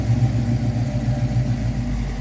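A car engine runs steadily nearby, a low, even mechanical rumble held at constant volume throughout with no voices over it.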